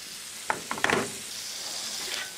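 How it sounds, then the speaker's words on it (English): White wine hits squash noodles on a hot Blackstone griddle, setting off a sudden hissing sizzle with a few sharp clicks and pops. The sizzle then settles into a steady, soft frying hiss. "Just going to deglaze that, the blackstone"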